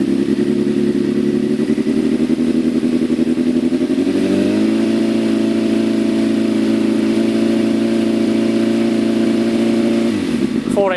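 A motorcycle engine runs steadily at idle, then rises to a slightly higher, held rev partway through before dropping back, loud and close throughout with a constant humming drone; a voice briefly begins speaking at the very end.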